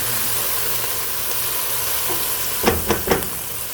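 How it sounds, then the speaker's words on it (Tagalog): Tomatoes cooking down in a pan for corned beef sinigang give off a steady, even sizzle, with three quick clinks of a utensil stirring near the end. "Lutuin natin maigi hanggang madurog yung kamatis."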